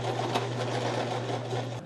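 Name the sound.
sewing machine sewing thick fabric over cardboard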